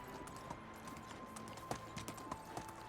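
Horse hooves clip-clop at a steady riding pace in the medieval video game Medieval Dynasty, rhythmic sharp hoof strikes over a low ambient bed, moderately quiet, with no talking.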